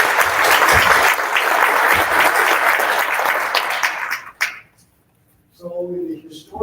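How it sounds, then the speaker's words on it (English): An audience at a veterans association event gives a loud, sustained round of applause that fades out after about four seconds, then a voice begins speaking. "let's give them a big round of applause."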